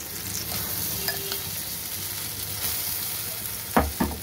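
Cauliflower and lentils fry in a pan with hing and tempering spices, giving a steady close sizzle, while a spoon stirs and scrapes, with a few louder knocks near the end.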